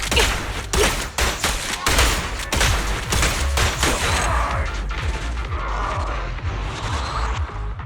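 Sustained gunfire in the video game Zenless Zone Zero: loud, rapid volleys of shots with crashing impacts, dense at first, then thinning into a rumbling, mechanical battle din.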